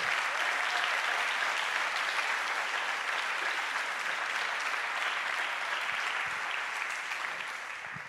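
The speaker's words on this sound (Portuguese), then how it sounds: "Você pode aplaudir o Senhor por isso" A church congregation at a youth camp gathering applauds in a loud, sustained wash of clapping that fills the space and fades slightly near the end.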